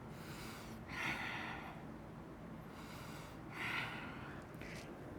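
Two soft, breathy exhalations about three seconds apart during a yoga cobra pose, quiet and close with a low room hum underneath.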